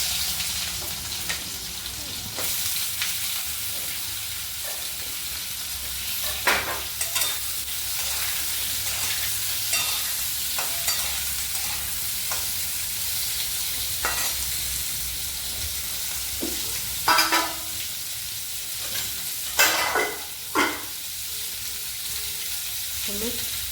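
Mango pieces sizzle and fry in hot oil with mustard seeds and dried red chili for a poppy-seed mango chutney, under a steady close frying hiss broken by scattered clicks and scrapes of stirring.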